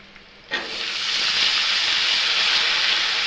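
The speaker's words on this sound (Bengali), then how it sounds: "একসাথে ভাজা করব।" Potatoes, tomatoes and local eggplant hit a hot pan with a sudden loud sizzle after a quiet half second, settling into a steady, close frying hiss that stays strong throughout with no talking.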